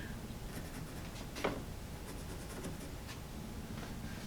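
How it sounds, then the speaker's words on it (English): A marker scraping a cut line onto sheet metal for a Jeep YJ rear fender flare, a faint short scratchy stroke over steady shop background noise. "Mark my cut line there."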